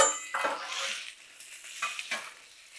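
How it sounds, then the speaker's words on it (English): Chicken sizzles as it hits bacon grease on a Blackstone griddle, a soft crackling hiss broken by a few scraping, stirring strokes of a spatula. "There's that sizzle."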